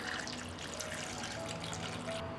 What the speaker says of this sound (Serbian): Sipat ću i vodu do visine poklopca